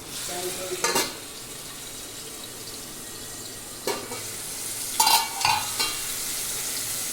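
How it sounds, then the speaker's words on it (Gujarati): Chopped sponge gourd drops into hot oil with garlic, asafoetida and turmeric. A low constant sizzle runs under a few sharp bursts of spoon scraping and clatter against the pan, with no talking. "હવે એમાં હિંગ ને હળદર અને આમે ગલકા જે સુધારીને રાખ્યા છે એ નાખવાના તેલમાં પહેલા"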